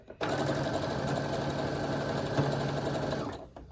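A sewing machine stitches quilt fabric strips in a steady, close mechanical whir that starts abruptly, runs evenly for about three seconds with rapid needle ticking, then winds down and stops.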